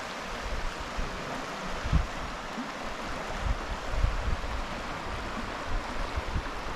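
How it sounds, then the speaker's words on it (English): The Cottonwood River flows at medium level past a sandy kayak put-in, giving a steady, close wash of rushing water with light gusts of wind, and no voices. "The river is flowing at medium level today, 386 CFS, I believe."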